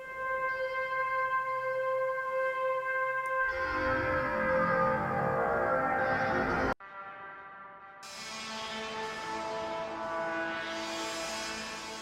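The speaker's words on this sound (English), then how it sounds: "So I can introduce a little bit of FM modulation." An Arturia Pigments soft synth pad holds sustained tones, growing brighter and more complex as FM modulation is brought in, then cuts out abruptly before a new sustained chord swells back.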